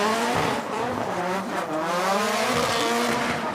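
A drift car with a Nissan SR engine slides through a corner during Iron Drift King 2023 qualifying, its loud, rasping engine note rising and falling over squealing tires, close and continuous throughout.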